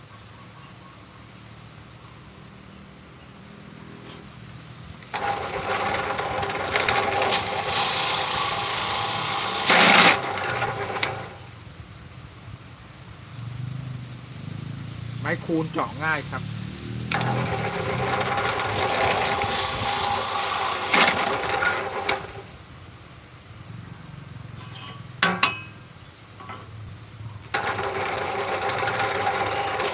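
A small motorized drill whirs in repeated bursts of several seconds while drilling 8 mm prayer beads, with quieter pauses and faint clicks between runs.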